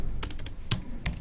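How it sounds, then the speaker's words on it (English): Quick bursts of keystrokes on a computer keyboard, a few close taps clustered in a short stretch over a quiet room tone with no talk. "I am just typing here."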